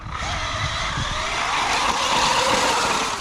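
Desert RC trucks tearing across dirt side by side, a continuous buzzing whine of small electric motors that swells and holds steady, loud and close.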